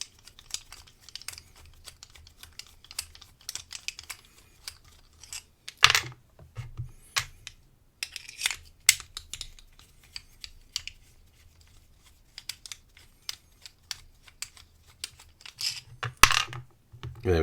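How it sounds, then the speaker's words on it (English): Small screws are unscrewed from inside a Zone Warrior padlock, giving sharp metallic clicks, ticks and scrapes in irregular clusters, close and fairly quiet, with brief louder clanks throughout. "we've got to unscrew two little screws on the inside"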